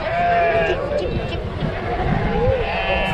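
Sheep bleat at a cattle and sheep show, a few drawn-out wavering calls rising over a dense crowd hubbub and close conversation.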